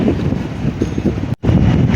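Strong wind buffets the microphone in a loud, constant roar, with a brief dropout before the gusting resumes.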